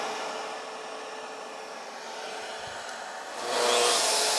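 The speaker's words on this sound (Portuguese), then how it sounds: "Vou ligar meu coletor aqui de pó, que é um aspirador" A shop vacuum serving as the dust collector for a track saw runs with a steady broadband whoosh, then swells louder and brighter near the end, with no voices over it.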